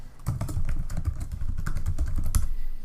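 Rapid close-up keystrokes on a computer keyboard as a password is typed, a dense run of light clicks with no talk.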